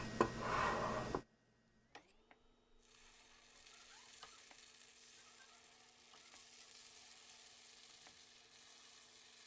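Paniyaram batter sizzles in the oiled wells of a paniyaram pan for Chettinad-style kuzhi paniyaram, starting with a brief loud burst, then settling into a quiet, steady fizz with a few soft ticks.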